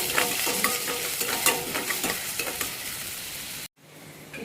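Onion and curry leaves sautéing in a pan for dal khichdi, a loud close sizzle with repeated stirring scrapes, cut off abruptly near the end before a brief quieter stretch.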